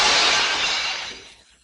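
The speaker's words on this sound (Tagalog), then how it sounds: "Ayaw niya maguluhan sa mga salamin kaya binasag niya ang mga ito." Mirrors shattered by an attack in an anime fight scene, heard as one loud, bright glass smash with tinkling shards that quickly fade to near silence.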